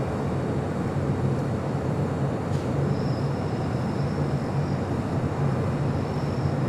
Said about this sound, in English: Up first should be Japan Airlines Flight 61 heading to Tokyo Narita, the 787-8 Dreamliner